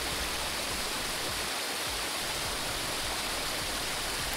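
A waterfall near Pune roars as a loud, steady, dense rush of falling water, close by and continuous with no voices.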